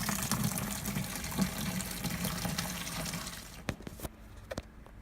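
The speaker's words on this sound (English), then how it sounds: "So that's the second lot of sparge water just gone on there." Sparge water pours steadily onto a bed of grain during home beer brewing, a continuous close splashing gush that ends abruptly, leaving a few faint drips and clinks.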